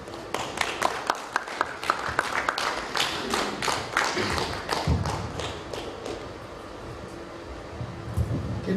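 An audience in a city hall applauding children at a Congo flag raising, the clapping starting with a few sharp distinct claps before swelling into a steady patter that thins out toward the end.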